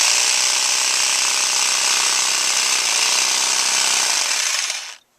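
A power saw runs at a steady, loud, high-pitched whine for several seconds, then cuts off abruptly.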